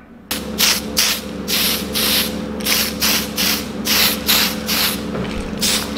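Repeated short bursts of spray hiss from a can or gun painting Datsun 260Z dash interior parts, close and loud, in a steady rhythm over a low background hum.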